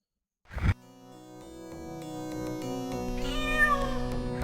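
A cat meows from within a computer role-playing game, Ravenloft: Strahd's Possession, as a game sound effect over steady synthesized music that swells after the brief opening call.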